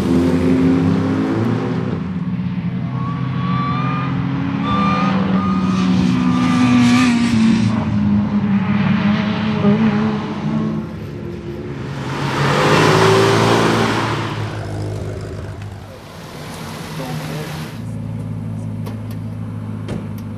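A Peugeot 206 CC drives on the Lurcy-Lévis race circuit, heard from close by with a steady engine drone that rises and falls through gear changes, swelling into loud revving surges before settling.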